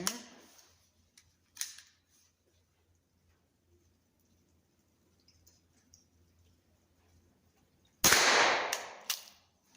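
Keystone Cricket .22 caliber youth rifle firing at an outdoor range: a sharp, loud crack with a brief fading tail near the end, after a few faint clicks and a long quiet stretch.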